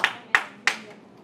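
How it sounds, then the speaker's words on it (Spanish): Three sharp hand claps at a Sunday church service, evenly spaced about a third of a second apart, close and fairly loud with brief decay between them. "Denle ese fuerte aplauso al Señor"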